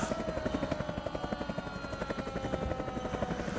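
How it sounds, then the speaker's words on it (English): A helicopter passes overhead with loud, rapid, rhythmic rotor thumps and a constant engine drone that hold steady for the whole stretch, with no speech. "Now, the whole time a helicopter flew over him."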